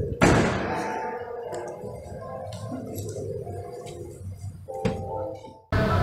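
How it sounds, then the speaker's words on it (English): The heavy sliding door of a 2023 Hyundai Staria Commuter van is slammed shut with a single loud thump, followed by quieter rattles and clunks. "You have to slam it because this is a really heavy door."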